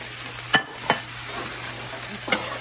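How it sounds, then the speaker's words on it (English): Cabbage frying in a pan gives a steady soft sizzle while broccoli florets go in, with a few sharp clinks and scrapes of a utensil against the pan. "Let's go ahead and add the broccoli florets."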